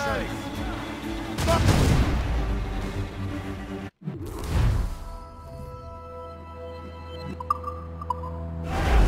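Ship cannons boom in a naval battle in the video game Assassin's Creed Rogue: heavy blasts roll out around the start and again after a brief silent cut, with rumbling echoes, crew shouting and ambient sea noise between.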